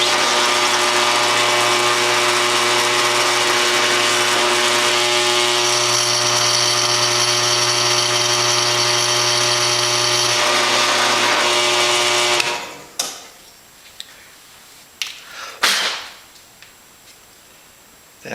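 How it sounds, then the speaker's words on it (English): A countersink is drilled into a wing tank Z bracket held against a wood block. A loud, steady power-tool whine runs for about twelve seconds, then stops, leaving a quiet room with a few sharp clanks and handling knocks. "hold it together, and then do my countersink."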